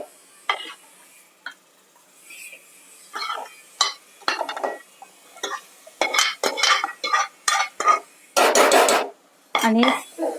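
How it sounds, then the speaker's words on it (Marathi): Cooked yellow mutton tipped into fried masala in a home kitchen pan, with a run of close stirring scrapes and metal clinks that build into dense clattering bursts and a soft sizzle toward the end. "आता मी हे पिवळं जे शिजवलेलं मटण आहे ते त्याच्यात आपण घालूया."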